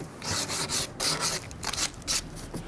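Sandpaper scuffs paint off the corners of an old painted wooden nightstand in quick back-and-forth strokes, about a dozen close, raspy rubs in an uneven rhythm.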